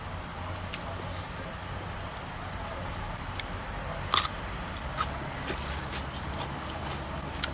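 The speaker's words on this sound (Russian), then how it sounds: "Молоденький хрустящий огурчик." Crisp bites and chewing of a crunchy young cucumber, eaten alongside meat chebureki, come in faint irregular crunches over a low background hiss, with a couple of sharper bites standing out.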